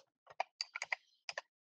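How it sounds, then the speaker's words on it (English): Computer keyboard typing in a quick burst of separate key clicks, close and fairly quiet, with no talk over it. "That was me typing."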